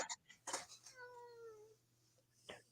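A pet cat gives a soft, drawn-out meow indoors in a home library, framed by brief quiet murmurs and rustles before and after.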